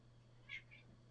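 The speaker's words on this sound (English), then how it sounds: "The cat is talking to me." A cat gives one short, faint meow followed by a softer second call, set against a quiet room with a low steady hum.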